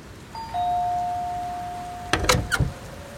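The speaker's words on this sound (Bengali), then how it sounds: "হঠাৎ কলিং বেল বেজে উঠল" A doorbell indoors sounds a sustained electronic tone, followed by a few brief knocks or thumps nearby.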